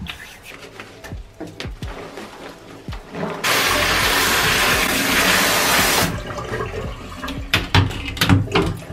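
Water rushes loudly into a washing machine filling for a laundry load in a home in South Korea, a steady gush lasting a few seconds amid lighter household clatter before and after.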